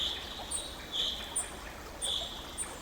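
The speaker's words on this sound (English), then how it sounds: "The tune belongs to birds unseen, carried by twilight's long wind." Birds sing faintly at twilight, a few high chirping calls recurring about once a second over a soft, steady airy background, distant and calm.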